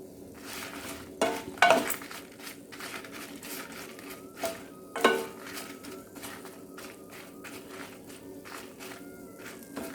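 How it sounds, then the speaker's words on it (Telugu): More than twenty dried red chillies fry in a pan while Moringa leaf chutney is prepared, with light crackling and scattered metallic clinks and scrapes from stirring, fairly close and quiet, with no talking. "ఇవి వేగుతుండగానే ఒక 20 పైనే ఎండుమిర్చిని వేసుకున్నాను అనమాట"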